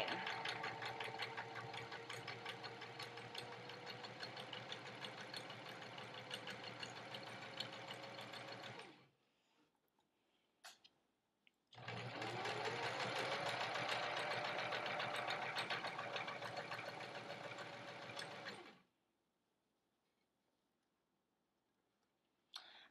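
A sewing machine with a zipper foot runs in two long bursts of rapid stitching while sewing in an invisible zipper, separated by a quiet pause, close by and fairly soft.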